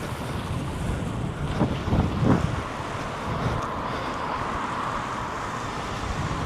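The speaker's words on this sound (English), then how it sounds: "Oh, it's windy." Strong wind buffets the microphone on a street in Glasgow city centre, a steady broadband roar with a few louder gusts, no voices over it.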